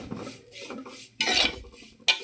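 A utensil scrapes and clinks against a pan as curry leaves are stirred dry over low heat with no oil, in short rhythmic strokes with a couple of sharper metallic knocks, close up.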